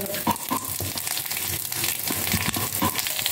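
Okra and cluster beans sautéing in a pan give a steady, moderate sizzle with a few faint stirring clicks and scrapes, heard alone without voices.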